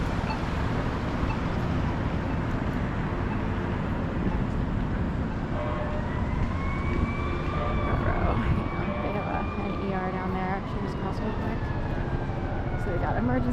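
Ambulance siren wailing in rising and falling sweeps partway down a busy city street on Market Street in Philadelphia, moderately distant under steady traffic rumble and crowd noise, with someone talking nearby.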